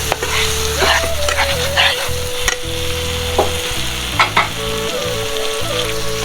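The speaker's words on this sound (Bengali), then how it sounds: "ফ্রাই প্যানে বসে মাংসের জন্য মশলা বসিয়ে নিলাম" Steady, loud sizzling of spices for a meat curry frying in a hot pan, with occasional clinks and stirring scrapes over a constant hiss.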